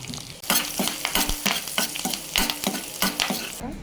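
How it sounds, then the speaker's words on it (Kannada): Curry leaves and garlic fry in a pan with a loud, close sizzle, cut by rhythmic scraping strokes of a spoon every half second or so, and no talk. "ಸ್ವಲ್ಪ ಕರಿಬೇವು ಸ್ವಲ್ಪ ಬೆಳ್ಳುಳ್ಳಿ ಇದನ್ನೆಲ್ಲ ಎರಡು ನಿಮಿಷ ಚೆನ್ನಾಗಿ ಫ್ರೈ ಮಾಡಿ"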